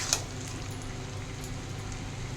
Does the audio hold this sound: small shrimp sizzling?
yes